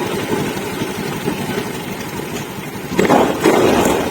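Honda Beat ESP scooter engine idling close by, then revved twice near the end, rising in loudness over a steady low rumble.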